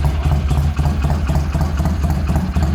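A British motorcycle engine idling loud and close in a workshop, a steady low pulsing chug with an even, slightly lumpy rhythm throughout.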